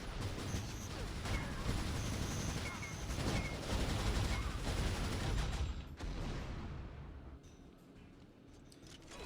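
Sniper and weapon fire from an Unreal Tournament match crackle in dense overlapping bursts for most of the clip, then thin out toward the end, with commentary-like voices mixed under the steady gunfire.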